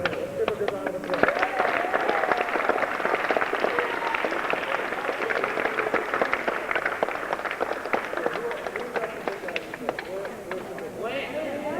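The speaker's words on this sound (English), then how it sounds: "Let's give a good round of applause." A group of kids at a summer basketball camp give a round of applause, loose clapping that carries on for several seconds amid gym echo and background chatter.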